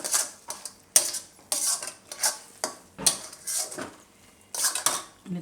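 A spoon stirs sweet wheat khichdo with cashews and almonds in a metal pot, producing a run of close, distinct scraping clinks in an irregular rhythm, with no voices.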